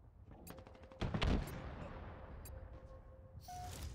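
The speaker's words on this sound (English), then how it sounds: "y'all having a sniper shootout over there" Sniper rifle shootout in Halo Infinite, with a few sharp shots and one heavier burst of gunfire, fairly faint and distant-sounding, mixed with game effects.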